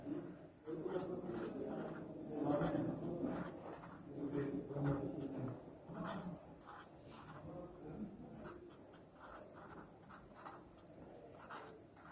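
Writing on a board during a biology genetics lecture, faint scratchy marker or chalk strokes in quick irregular bursts, close and quiet, with a lecturer speaking softly in between.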